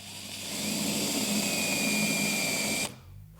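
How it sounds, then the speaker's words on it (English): A hand-held power drill bores a straight hole with a steady, even whine lasting nearly three seconds before it cuts off abruptly. "then you're ready to drill."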